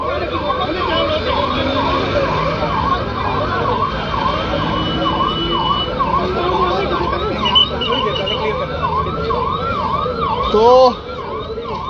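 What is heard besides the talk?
ambulance siren on a highway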